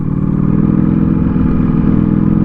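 A Ducati Panigale V4S Speciale V4 motorcycle labors at low speed in a tall first gear, giving a loud, close, steady low engine drone with a fast pulsing beat and no voices.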